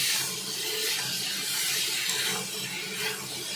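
Cubed potatoes and pointed gourd frying with spices in a pan: a steady, close sizzling hiss that holds throughout without a break.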